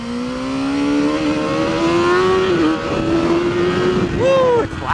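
A BMW racing motorcycle engine at Mission Raceway, roaring loudly and close as it climbs steadily through a gear, with a brief dip and a quick rev near the end.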